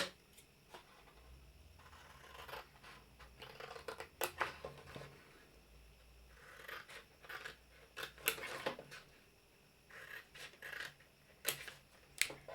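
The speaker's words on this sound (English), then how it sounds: "all we need to do now is cut up these lines here that are going to form the bottom of our box." Scissors snip through card along scored lines for the base of a Stampin' Up! pop-up gift box, giving a string of short, close crisp cuts at an uneven rhythm with quiet pauses between them.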